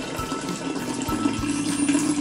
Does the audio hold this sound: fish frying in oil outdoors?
no